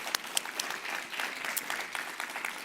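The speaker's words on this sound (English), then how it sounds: "Please give them a huge round of applause" An indoor audience at a public program on healthy food access claps together in a steady burst of applause, dense and sustained, with no voices over it.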